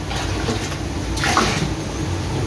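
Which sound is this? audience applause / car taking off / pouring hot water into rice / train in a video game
pouring hot water into rice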